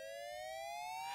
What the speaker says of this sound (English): Sirens blaring at the Bluegrass Army Depot in central Kentucky.